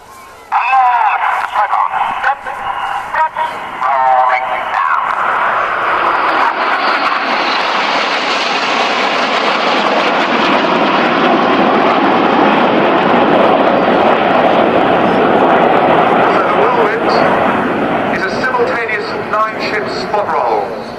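Red Arrows jets fly the Whirlwind manoeuvre at an air day, a loud sustained engine roar that swells and holds for about twenty seconds. A voice is heard briefly near the start.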